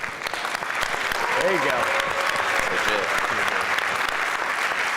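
An audience bursts into loud applause that swells and holds steady, with a voice speaking briefly over the clapping.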